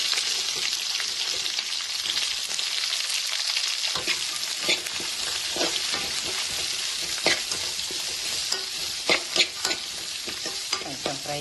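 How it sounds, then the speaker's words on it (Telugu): Green chillies and onions frying in a pan for a ridge gourd and pea curry, a loud continuous sizzle with scattered scraping taps of stirring growing busier toward the end, no voices. "కొంచెం ఫ్రై చేసుకున్నామండి"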